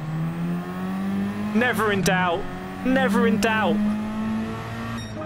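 A Peugeot race car in Gran Turismo 7 revs hard through two rising gear-shift sweeps, its engine note climbing and dropping back, with a voice speaking briefly over the racing sound.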